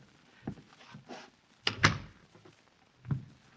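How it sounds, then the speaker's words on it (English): A door closes in a 1948 old-time radio drama: soft shuffling and a creak, then a pair of sharp knocks and thuds as it shuts, followed by a quieter bump in a hushed room. "Close the door."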